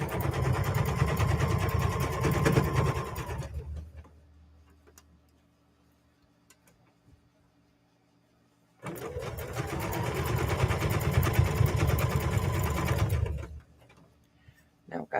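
A sewing machine runs in two long steady bursts separated by a quiet pause, stitching binding onto a quilted bear wall hanging, close and even-toned with a rapid mechanical rhythm.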